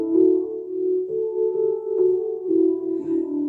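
An electronic virtual church organ plays a line of a hymn tune, with sustained, pure, steady tones changing pitch every half second or so, clear and alone.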